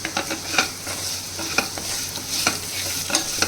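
Chili powder, turmeric and spices stirred and fried in oil for tomato rasam, a steady sizzle with repeated spoon scrapes and taps against the pan, close and unaccompanied by voices.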